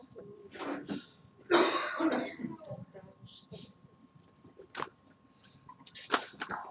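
A pastor coughs and clears their throat a few times during a sermon, close and moderately loud, with brief Spanish speech mixed in.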